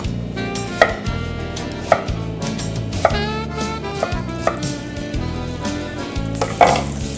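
Onion fries in a hot pan of olive oil and butter, a steady close sizzle under background music, broken every second or so by sharp knocks like a knife on a board.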